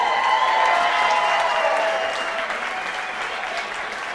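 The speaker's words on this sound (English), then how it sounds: "Can we get a round of applause?" An audience applauds steadily, a dense wash of clapping that gradually eases off without stopping.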